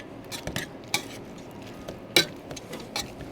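Potato being mashed for a Tex Mex cottage pie: soft, close clicks and scrapes of a masher against the pot come in a few scattered knocks, with one sharper clack, all quiet and with no voices.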